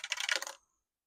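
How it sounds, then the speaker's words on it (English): Small plastic three-sided dice rolled on a hard surface, a quick rattling clatter of rapid clicks lasting about half a second before stopping abruptly, close and fairly quiet. "I will roll 3-sided dice."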